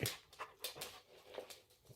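A dog whimpers in a home in a series of soft, high whines and small breathy cries, faint and close, with no talking over them.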